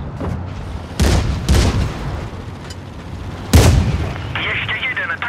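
Tank cannon fire hitting an enemy in World of Tanks Blitz, with the 10TP tank: three heavy booming shots spaced across a few seconds, loud and close, over a rumbling engine bed with a voice speaking.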